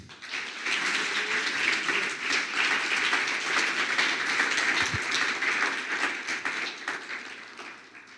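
A church congregation claps for Jesus during a sermon, a sustained, even roar of many hands applauding that swells and then tapers off toward the end.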